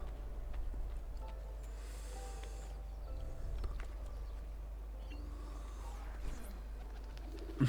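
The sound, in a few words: pigeons cooing in a video game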